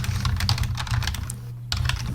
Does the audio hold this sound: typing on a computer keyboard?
yes